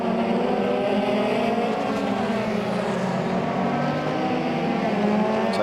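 Euro Formula Open race cars circulating during qualifying at Monza, a busy track full of open-wheel engines, producing a continuous, dense roar that holds steady throughout with no talk.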